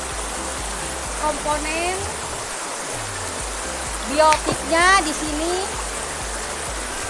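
A river running along a fertile tropical bank, a steady broad rush of flowing water heard close and continuous, with a person talking over it and birds calling faintly in the background.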